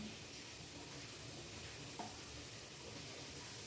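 Cumin and turmeric sizzle steadily in hot oil in a home kitchen, a dense, even hiss holding at moderate level throughout with no voices over it.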